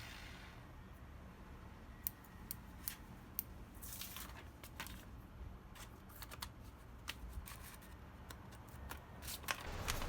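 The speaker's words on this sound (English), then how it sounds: "It cuts, but it's got a ways to go still." Hand-forged steel scissors, their halves temporarily joined with a nut and bolt, snip repeatedly in quick crisp cuts with an irregular rhythm, close and fairly quiet, with no voices.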